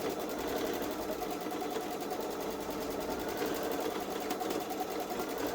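A Babylock Solaris Vision sewing machine stitches a Halloween gnome quilt edge to edge, giving a steady, close, continuous mechanical whir and rapid needle chatter that runs without a break.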